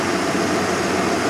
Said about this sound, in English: So right now, sitting here with the vehicle idling,